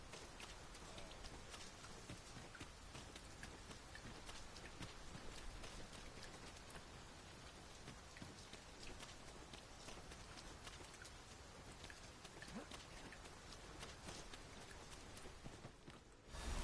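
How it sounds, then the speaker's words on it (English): Steady rain falls across the open world of the Dragon's Dogma 2 video game, a dense continuous hiss of drops on surfaces with faint hoof clops and footsteps beneath; quiet and unbroken until a sudden swell at the end. "It started raining"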